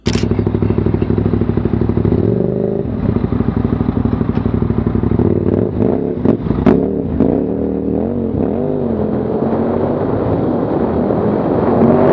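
A motorcycle engine drones loud and close on a road in Switzerland, then revs with rising and falling pitch as it accelerates, along with clattering thumps mid-way.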